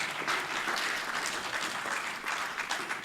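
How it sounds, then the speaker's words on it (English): Warm audience applause for a former House of Representatives chairman at a Nigerian political gathering, dense continuous clapping from a sizeable crowd, loud and steady throughout. "a special round of applause for him"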